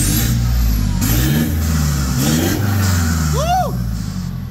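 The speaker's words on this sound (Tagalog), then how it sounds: "Iba talaga ang bidot exhaust." Mitsubishi Montero engine fitted with a Bidot exhaust revs up loudly and close, with deep rumbling rises and falls over a few seconds; people talk over it.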